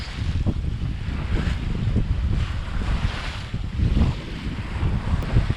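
A sailboat heels hard in strong wind on an open-sea passage from St Maarten to Grenada, with constant roaring wind buffeting the microphone and waves rushing along the hull in loud surging swells, no voices.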